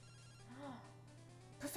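A phone rings in Pokémon Silver with a short, faint electronic chime tone that repeats softly over a low steady hum.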